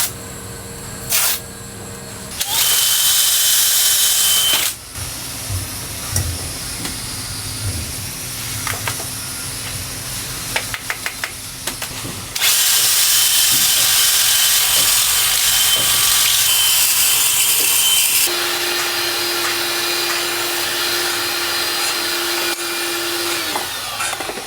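A power drill boring holes into the timber of a wooden salvaged sailboat, loud bursts of motor whine and grinding in several long runs with short pauses between, close up, no talk.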